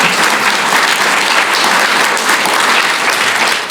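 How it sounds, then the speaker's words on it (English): An audience at an award presentation breaks into loud, sustained applause, a dense close wash of clapping hands that holds steady for several seconds before starting to fade. "you can give her a round of applause"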